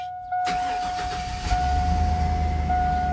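A GMC Yukon XL engine cranks and catches, then settles into a steady, loud idle rumble up close.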